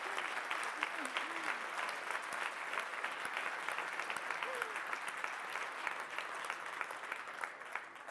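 A conference audience applauds after a talk on investigative data work, sustained crowd clapping with a few brief cheers or whoops rising over it early on, holding a fairly even moderate level throughout.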